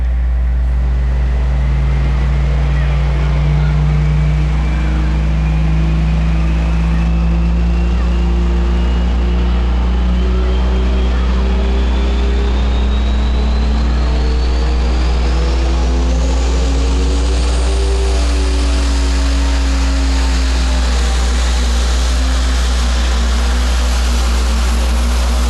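Tractor pull at a county fair: a powerful pulling tractor engine roars continuously and loudly, its pitch climbing steadily as it accelerates down the track, with crowd and other engine noise underneath.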